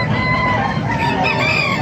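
Many gamefowl chickens and roosters for sale at a market in Calumpit, Bulacan cluck and crow at once, a loud, dense, continuous chorus of overlapping calls nearby.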